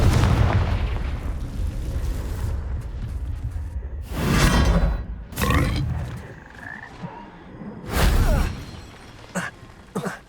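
The Confringo blasting spell from Hogwarts Legacy sounds as a series of booming explosions, some heavy and some shorter, each rumbling out before the next hits, over steady game ambience.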